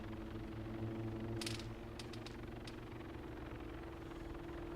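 A helicopter flies in the video game Arma Altis Life, heard as a steady, fairly quiet rotor and engine drone with no voices and a few faint clicks.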